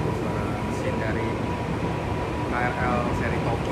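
A KRL commuter train, a former Tokyo series unit, runs with a steady low engine and motor drone inside the carriage, a constant close rumble with faint higher whines rising and fading.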